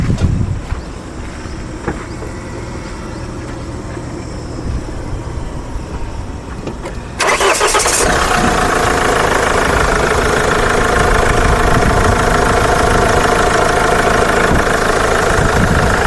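A Mahindra XUV500 SUV engine cranks and then catches. A steady, loud diesel idle follows, with a constant rumbling drone that holds even to the end.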